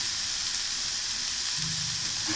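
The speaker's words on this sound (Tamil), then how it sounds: "இதை வந்து நம்ம ஆயிலே கொஞ்சம் அரை வேக்காடு வதக்கணும்" Capsicum and onion sauté in hot oil, a steady broadband sizzle running throughout at close range, with no voices over it.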